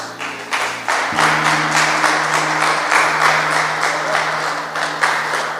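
A church congregation claps together in a steady, fairly loud rhythm, the beats grouped in regular pulses over a held low tone, without talk.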